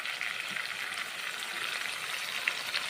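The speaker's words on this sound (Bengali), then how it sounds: "এখন মশলা আমি গরম তেলের সঙ্গে ভেজে নিচ্ছি।" Spices frying in hot oil for a Gobindobhog rice and cabbage dish, a steady, even sizzle with a soft crackle that carries on without a break, fairly close and with no voices.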